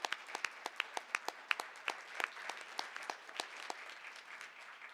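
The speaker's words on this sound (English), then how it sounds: "how about another round of applause for Mr. McNally?" A small audience at a board meeting claps for an honoree, with individual sharp hand claps standing out in a loose, uneven rhythm over a thin spread of applause, moderately close.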